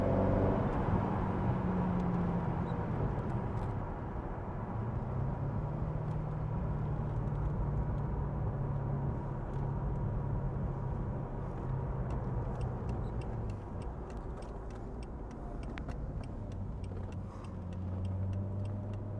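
A 2004 Chevrolet Corvette with 27k miles cruises on a test drive, its engine and road noise forming a steady, fairly faint drone heard from inside the car with no voices.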